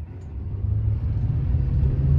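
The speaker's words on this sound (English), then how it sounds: "Now wide open throttle," A 4WD vehicle on Goodyear Wrangler tires accelerates through snow at wide-open throttle. Its engine rumbles low and steady and swells gradually as it pulls away.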